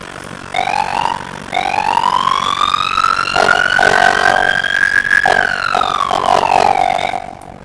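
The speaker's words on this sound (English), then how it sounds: "That's a manual siren" A manual fire truck siren in the video game EmergeNYC winds up and down in long rising and falling sweeps, loud and close, with a slightly synthetic tone.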